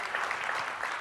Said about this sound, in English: Give them all a loud round of applause.